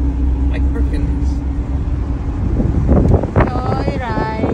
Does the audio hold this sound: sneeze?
no